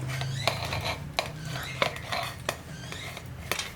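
Ingredients for a chutney go into a metal mixer jar, with several sharp metallic clinks and taps of a spoon against steel over a low steady hum, close by.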